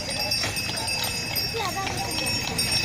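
Horses' hooves clip-clop in a quick, irregular rhythm nearby at a Hungarian wedding in Yasinia in the Carpathians, while people talk over a busy background.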